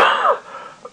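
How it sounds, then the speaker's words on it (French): A single sharp cough and a throat clear, close and loud, fading into a brief rasp and then quiet, from a French speaker who keeps coughing. "C'est merveilleux, j'arrête pas de tousser."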